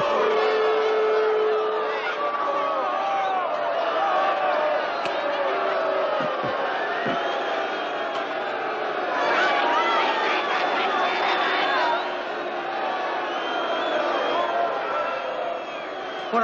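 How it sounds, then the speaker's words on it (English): A large wrestling arena crowd jeers and shouts continuously, a dense, loud wall of booing and yelling voices that holds steady throughout, with voices talking over it. "Okay, listen to that crowd. They really hate me."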